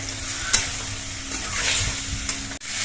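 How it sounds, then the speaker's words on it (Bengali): Spice paste stir-fried in a pan for a vegetarian okra curry, giving a steady sizzle with a few sharp spatula scrapes and knocks against the metal, close up and with no voices. "এবার এই মশলাটা দিয়েও কিছুক্ষণ কষিয়ে নিতে হবে"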